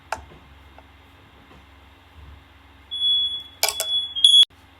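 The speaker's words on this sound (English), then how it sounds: "I don't know why the fire alarm is acting fucking dumb, but it is." A fire alarm goes off indoors with a loud, shrill high-pitched beep, then a second short chirp after a quiet stretch with faint ticking.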